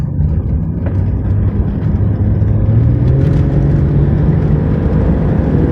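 Car driving at steady speed after a brake job, a continuous low engine drone and road rumble with a slowly rising hum, loud and close throughout with no talk.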